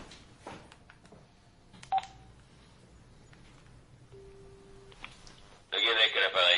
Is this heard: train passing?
no